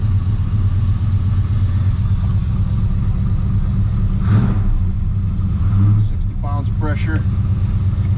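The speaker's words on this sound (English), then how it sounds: "Jensen auto exhaust, 400 small block, a little tranny whine, don't we all?" A truck with a 400 small block engine and Jensen auto exhaust runs at a steady rumble with a faint transmission whine, a brief louder swell partway through, and a person speaking briefly near the end.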